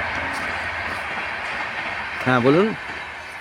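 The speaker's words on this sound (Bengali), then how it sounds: "এই যে ট্রেন যাচ্ছে" A train rolls past a farm near Kharagpur with a continuous rumble in the background, while a person briefly speaks close to the microphone.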